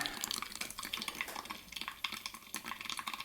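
Water splashes and trickles into a Wilfa Svart manual coffee brewer as five deciliters are poured, faint, close, uneven liquid gurgles and drips with no talking.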